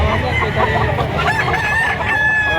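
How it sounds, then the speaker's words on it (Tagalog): A rooster crows loudly and close by, its drawn-out call rising and falling, with other fowl clucking in the background. "Ang manok."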